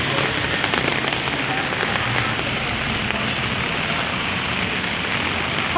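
Heavy rain pours down in a dense, constant hiss of drops hitting surfaces close by, loud and unbroken throughout with no voices.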